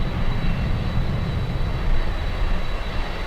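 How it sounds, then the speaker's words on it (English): Swiss airliner landing on runway 12 at Miami International Airport, a loud broadband jet roar that stays steady and close for a few seconds. "It's landing on runway 12. So this is the second Swiss flight of the day."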